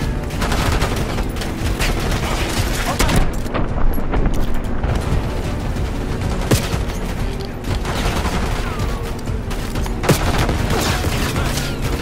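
Continuous gunfire and bursts from Call of Duty Black Ops 6 campaign combat, loud and dense throughout with booming impacts layered over rapid automatic fire.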